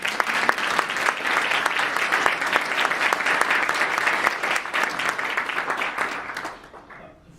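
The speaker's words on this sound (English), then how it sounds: "I'd like to ask you to join me in a round of applause." An audience at an annual railroad night lecture breaks into a round of clapping, crisp individual claps dense and lively for several seconds before thinning and fading out near the end.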